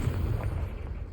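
Explosion from the Confringo fire spell in Hogwarts Legacy, a short deep boom with a dense low rumble that fades over about a second, heard alone.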